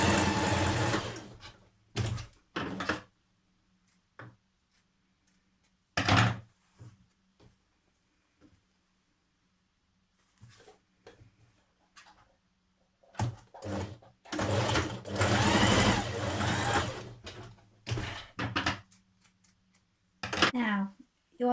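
A sewing machine stitches two dress pieces together at the shoulder with a 1.5 cm seam allowance, running in several short bursts of rapid close stitching separated by pauses, with a voice speaking between some of the runs.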